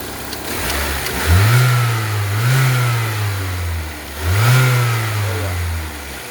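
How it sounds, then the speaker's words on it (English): A 2003 Saab 9-3 2.0t engine, after a throttle body fix, idles and then gets two quick revs that rise and fall back, close and clear with no talk over it. "Yeah, give it a little rev."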